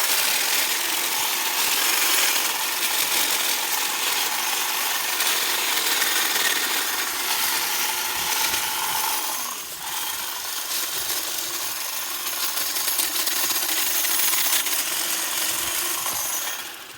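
A DeWALT hedge trimmer cuts green tillers from an old Manitoba maple, giving a loud, steady buzzing drone with rustling and snapping of branches that runs almost without pause throughout.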